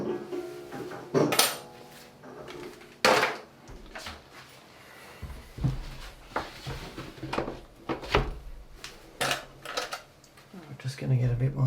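Dried watercolour paint being scraped on paper in a large abstract landscape, in short rough scratchy strokes with pauses between them, close up, with bumps and knocks around them.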